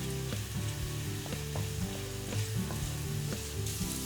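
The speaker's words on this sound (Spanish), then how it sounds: "En un poco de aceite ponemos el ajo picado y la guindilla." Chopped garlic and chili pepper sizzle in a little oil for a vegan arrabbiata sauce, a steady crackling fry with occasional stirring clicks, moderately quiet and with no voices.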